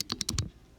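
A quick burst of about five keystrokes on a computer keyboard, close and crisp, while entering numbers into a calculation, then quiet.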